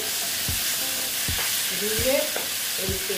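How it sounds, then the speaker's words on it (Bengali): A spatula scrapes and stirs mourola fish masala seasoned with salt and turmeric in a pan, giving several distinct knocks over a steady sizzle, close and fairly loud with no talking. "দিয়ে ভালো মতন আমি এটাকে কষিয়ে দিচ্ছি"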